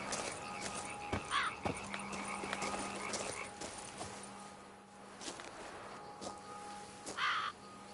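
Crows cawing in The Witcher 3: Blood and Wine, a few short harsh caws over a quiet ambient bed with faint footsteps and a steady low hum.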